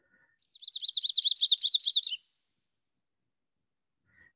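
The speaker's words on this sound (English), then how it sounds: "Fast burbles, and then a couple of syllables that are a little longer." A yellow-rumped warbler gives one clear song of fast, high burbling notes that ends in a couple of slightly longer syllables. It lasts about a second and a half in a quiet setting.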